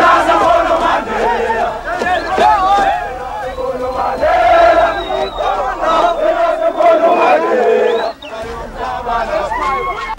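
A huge, dense crowd of African National Congress supporters in Cape Town roars and shouts in jubilant welcome for Nelson Mandela, loud and close, with overlapping voices, chants and cries surging continuously before briefly dipping near the end.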